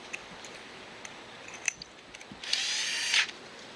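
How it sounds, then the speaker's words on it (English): A battery-powered Milwaukee cordless drill whirs into fiberglass for about a second after scattered small clicks and taps, its high grinding pitch rising before cutting off. "allow the drill to find its center, and when it touches the fiberglass, speed it up."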